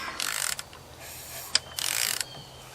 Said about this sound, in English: But I hear valves moving, and I don't hear anything clunking